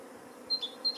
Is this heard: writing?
no